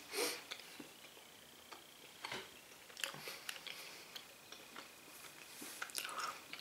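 Dried pineapple rings being chewed close up, with soft, sticky, squishing bites and a few sniffs spread across the moment, quiet and intimate with no talk.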